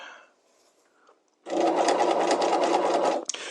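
A sewing machine stitches a piped seam along cording, starting after a quiet moment and running at steady, rapid speed for nearly two seconds, loud and close, then stopping with a few clicks.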